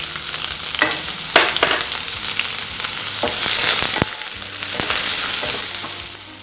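Onions fry in oil in a kadai, sizzling steadily throughout with intermittent scraping and stirring clicks from a spoon, close and fairly loud, no voices.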